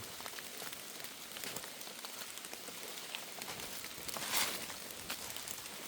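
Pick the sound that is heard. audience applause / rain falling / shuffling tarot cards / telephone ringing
rain falling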